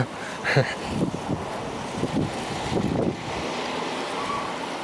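Strong wind gusts during an early snowstorm buffet the microphone: a loud roaring blast at the start, then uneven rushing bursts settling into a steady windy hiss.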